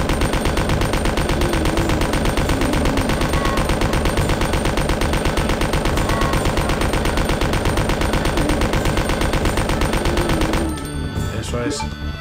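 Sustained rapid automatic gunfire from a machine gun in Resident Evil 2 on PS1, loud and continuous for about ten seconds before cutting to a brief different game sound at the end.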